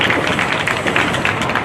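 A crowd at an outdoor LGBTQIA+ flag raising ceremony in East Orange claps steadily, a dense, even patter of many hands without pause.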